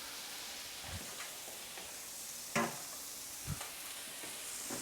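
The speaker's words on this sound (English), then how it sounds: "You hear that amazing sizzle." Burger patties sizzling in a frying pan, a faint steady hiss with a few soft clicks and pops, heard alone.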